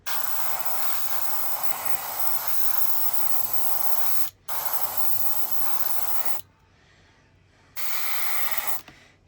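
A spray paint can hisses in long loud bursts onto a part of a 1972 Chevy Fleetside model truck, three sustained sprays separated by short pauses, close up.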